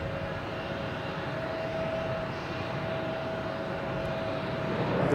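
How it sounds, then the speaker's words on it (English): Delta Connection Embraer 175 taking off at Logan Airport at night, a steady broadband engine rumble with a faint tonal whine that swells slightly toward the end, heard from a distance without talk. "Embraer 175 is the one that took off"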